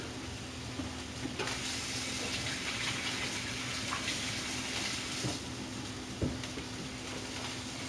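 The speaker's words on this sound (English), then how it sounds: "Give my hands a quick wash real quick" Hands being washed under a running kitchen tap while cooking tapas, a steady close wash of water streaming for the whole stretch with a few small knocks and splashes, no talking.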